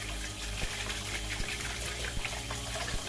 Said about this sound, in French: Bien regarder là où je mets de l'eau